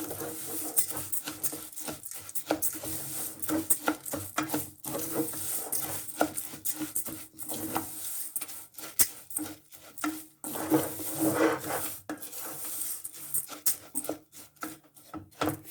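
A utensil stirs and scrapes raw rice mixed with curry around a pan, producing continuous close scraping, rubbing and light clinking with no talk.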